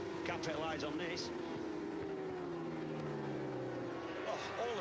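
Superbikes racing at Brands Hatch, engines on the overrun cresting Paddock Bend, a continuous loud roar with sweeping pitch glides as machines pass, heard under steady commentary.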